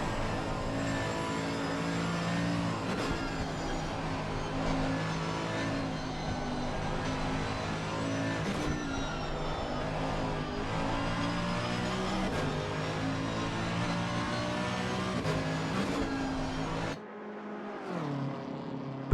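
Race car engines at the Nürburgring in a racing game drone and whine continuously for most of the stretch, shifting pitch as cars accelerate and brake, then drop abruptly to a quieter, thinner engine note near the end.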